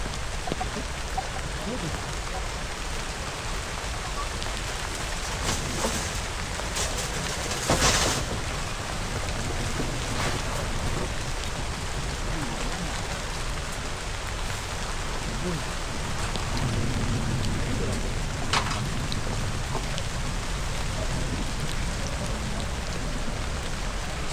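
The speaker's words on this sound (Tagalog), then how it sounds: "Sana tumigil na yung ulan." Steady heavy rain pouring down in a constant wash of noise, with a few brief louder spatters and no voices.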